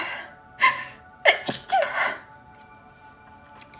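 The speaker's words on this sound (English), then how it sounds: "I think I have to sneeze" A single person sneezes close up, with a sharp inhale followed by a forceful burst and a couple of trailing gasps, then quiet.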